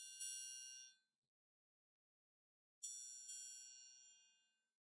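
A triangle struck on its edge rings with bright, sustained metallic tones, two separate strikes each decaying over about a second with a silent gap between, heard alone and clearly.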